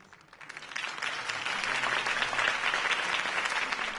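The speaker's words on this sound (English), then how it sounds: "If only Mr. Wayne, my campaign's largest backer, could have heard that applause" Crowd applause from a video-game campaign rally for Harvey Dent, a broad wash of many hands clapping that swells after the first second and holds steady and loud to the end, with no voices over it.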